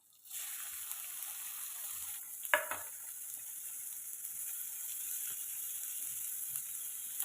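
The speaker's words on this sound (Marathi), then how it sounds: "तेल थोडं गरम झालं की ह्याच्यामध्ये आपण आता कांदा घालून घेणार आहोत" A low steady hiss of hot oil, then a sudden louder crackle as chopped onion hits the pan and keeps sizzling evenly at close range.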